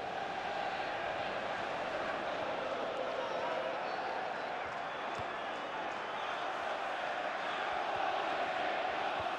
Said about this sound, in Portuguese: E claro que a torcida está feliz com o time. Escuta a sua festa, Caio.